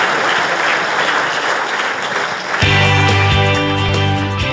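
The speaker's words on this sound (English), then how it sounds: "Let's give a round of applause for these folks." Conference audience applauding after a panel on stage, a dense steady wash of clapping that continues as tonal music swells in underneath for the last couple of seconds.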